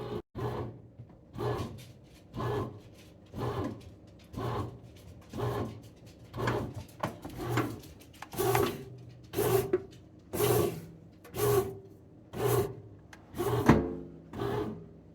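A bread machine kneads dough in a steady repeating cycle, each rumbling knead stroke returning about once a second, growing louder and grittier as it speeds up; no voices.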